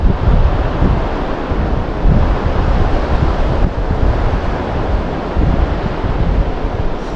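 Loud, continuous roar of strong wind hitting the microphone while fishing, steady and dense throughout with occasional surging gusts.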